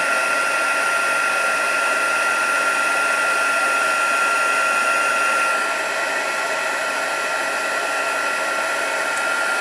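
A heat gun used for heat embossing blows with a steady, loud whirring hiss that runs for the whole stretch. Its tone shifts slightly partway through, and no one speaks over it.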